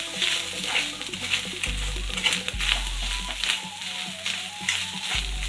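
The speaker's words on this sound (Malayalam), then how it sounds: "ഇനി സിമ്മിലിട്ടിട്ട് നമുക്ക് വറുത്തെടുക്കാം." Grated coconut roasting slowly in coconut oil on a low flame with urad dal, giving a soft steady sizzle broken by frequent stirring scrapes and taps of a spoon against the pan, with a low hum in the background.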